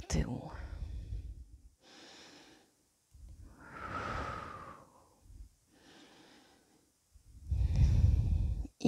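Close, soft breaths drawn in and pushed out in slow repeated cycles during a shoulder stretch, with pauses of silence between them.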